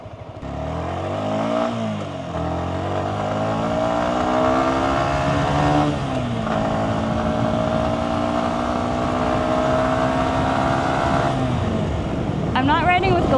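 A motorcycle rides along a sunny forest road, its engine a loud continuous drone that rises and dips with gear changes and throttle, recorded close on the bike with wind noise and a rider speaking.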